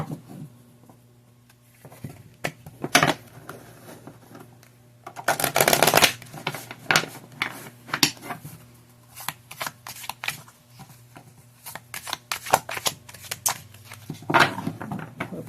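Oracle cards being shuffled by hand at close range, with irregular bursts of riffling and soft slaps between quieter pauses, a faint steady hum underneath and no talking.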